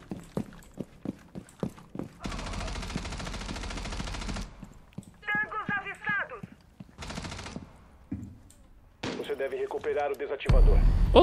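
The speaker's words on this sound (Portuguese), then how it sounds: "de onde veio esse tiro" Gunfire in the tactical shooter Rainbow Six Siege: a run of sharp single shots, then long bursts of automatic fire and scattered shots between quieter gaps with footsteps, with a player talking at times.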